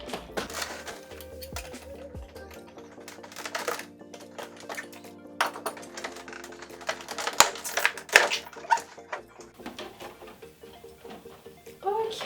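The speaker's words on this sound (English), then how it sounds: "Let's get him cut out of his blister." An anime figure is cut free from its plastic blister packaging, with close, irregular snips, clicks and crinkling plastic crackles that grow busier toward the end.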